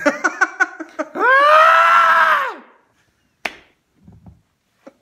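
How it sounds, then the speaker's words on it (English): A rapid series of short panicked cries builds into one long, loud sustained scream that fades out, followed by a sharp knock and faint murmuring. "scream while running away"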